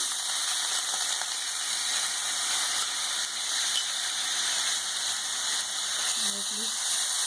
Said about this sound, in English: I have heated little oil here, and in this I'll add this chopped onion